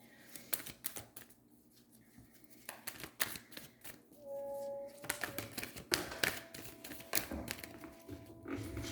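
Tarot cards being shuffled and drawn produce quick papery riffles, flicks and taps in irregular bursts, close and fairly quiet, with faint tonal background noise between them.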